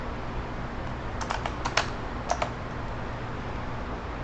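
A short burst of keystrokes on a computer keyboard types a quick search word, a small cluster of crisp clicks midway through an otherwise quiet stretch, with no voices.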